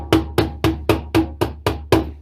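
Eight low-tone strikes on a djembe hand drum come in a steady, evenly spaced rhythm, each a punchy close thump that decays quickly, with no talking.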